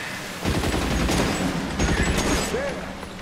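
Gunfire in the L.A. Noire video game, a dense burst of rapid shots with sharp cracks and echoing booms, loud and continuous for about three seconds over a busy background, a voice briefly heard.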